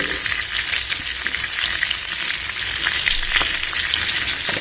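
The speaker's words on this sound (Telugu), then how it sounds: "సాల్ట్ వేసుకుంటే ఏంటంటే ఆనియన్ కొంచెం త్వరగా ఫ్రై అవుతుందండి" Onions fry in oil with turmeric and salt, giving a close, continuous crackling sizzle with small pops and light stirring throughout, and no voices.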